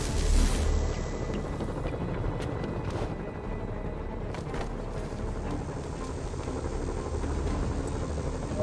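Helicopter in the video game Marvel's Spider-Man, a steady dense rotor roar that fills the scene, loud and continuous, with a brief brighter burst at the start.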